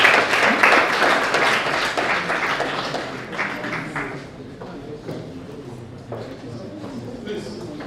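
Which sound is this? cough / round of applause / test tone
round of applause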